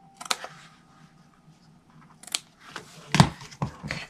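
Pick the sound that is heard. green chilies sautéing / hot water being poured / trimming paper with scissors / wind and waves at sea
trimming paper with scissors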